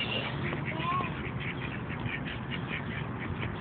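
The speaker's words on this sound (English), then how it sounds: "chasing the ducks." Ducks quack and squawk as a young girl chases them outdoors, a busy run of calls over a low, noisy background.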